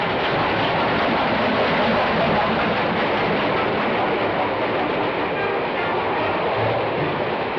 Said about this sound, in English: There are hundreds of people on that passenger train.